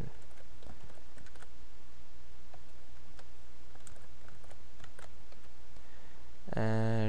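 Rapid clicking keystrokes on a computer keyboard, light and quick, typed steadily in a quiet room and ending with a brief electronic tone.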